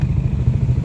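A motorcycle engine idling at Binoni Port on Camiguin Island, a close, loud low rumble with an even chugging pulse.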